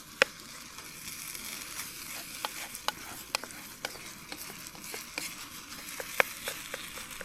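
Quiet sizzling with scattered crackles and pops of rice cooking in a pan, and no talking.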